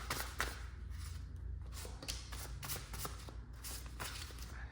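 A deck of tarot cards is shuffled by hand, a quick run of crisp riffling and soft slapping bursts, close by and fairly quiet, with no talking.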